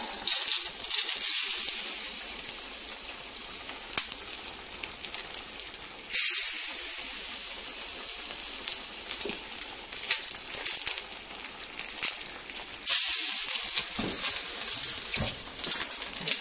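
Battered dandelion fritters fry in hot oil, a bright, continuous sizzle and hiss heard up close, with two sudden surges as more pieces drop in and occasional clinks from tongs.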